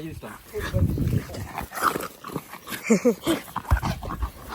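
Dog playing with a ball at a countryside dacha during a wedding celebration: excited barks, yips and whimpers come in bursts, mixed with near, lively talk from people.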